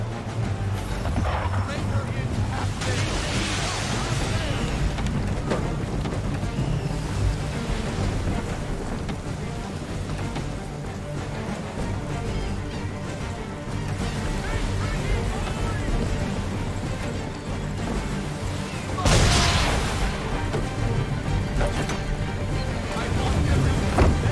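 A sailing ship at sea in the video game Assassin's Creed III, with a steady rush of wind and waves and creaking hull noise under voices shouting orders, plus louder wind gusts.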